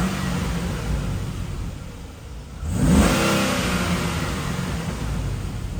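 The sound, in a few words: Chevrolet Caprice engine revving with headers and converter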